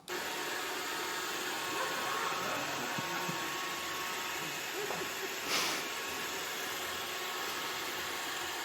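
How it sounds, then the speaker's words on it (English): A robot vacuum cleaner running in a living room, a steady close broadband whir and hiss that holds unchanged throughout, with a brief rise near the middle. "Exit stage left, pursued by a vacuum cleaner, which had clearly sprung into action."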